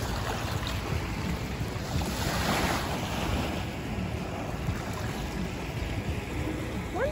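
Waves of the River Thames in London lapping near St. Paul's Cathedral and the Millennium Bridge, a steady wash of water with heavy wind buffeting the microphone, no talk.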